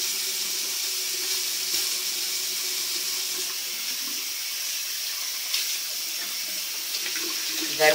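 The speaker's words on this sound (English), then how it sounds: "Then when I rinse, if you could see what goes into the sink, when I rinse my face cloth" Tap water runs steadily into a sink while a face cloth is rinsed under it: a constant close hiss and splash with small shifts, and no voices.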